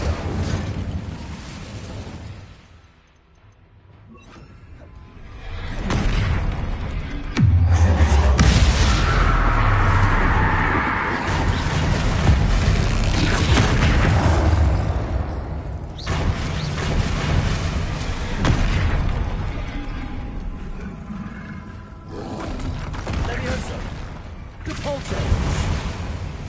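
Explosive spells cast in Hogwarts Legacy, fired against a troll, burst loudly one after another in a dense, rumbling barrage of blasts and crashes, with a voice speaking between them.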